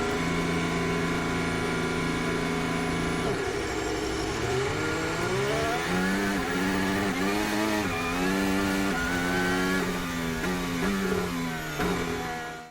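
A racing car at the damp São Paulo sprint start revs its engine, the pitch climbing, dropping and climbing again in repeated surges as the throttle is worked, with steady engine tone throughout and no talking.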